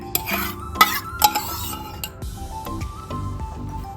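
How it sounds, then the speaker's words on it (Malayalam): A marinade for oven-grilled chicken with yogurt, vegetable oil, lemon juice and spices being mixed in a bowl: a spoon clinks and scrapes in quick strokes, with soft wet squishing, close up and without talk. "ഇതെല്ലാം നല്ല പോലെ ഒന്ന് മിക്സ് ചെയ്യണം"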